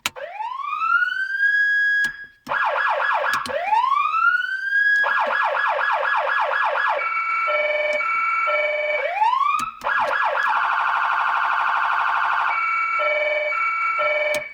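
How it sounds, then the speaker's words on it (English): Police siren tones from a Touchmaster Delta siren cycle through several patterns: rising wails, rapid yelping sweeps and a steady two-tone alternation, loud and close with brief gaps between modes. "I'll go through the siren tones on the Touchmaster Delta really quickly"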